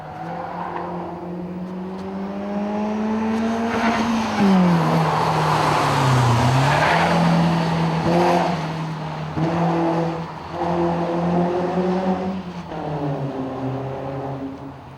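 A BMW race car laps a track, its engine note climbing and falling through gear changes as it accelerates and brakes, loud and continuous for the whole stretch.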